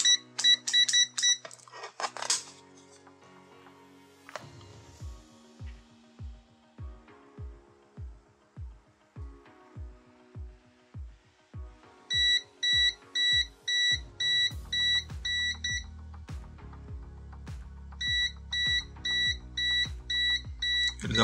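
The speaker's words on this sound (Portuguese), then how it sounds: "Ele dá o aviso de NCV." A VM600A multimeter in non-contact voltage mode gives repeated short electronic beeps at a steady pace, loud and close, with bursts of rapid high chirps alternating with lower pulsed tones.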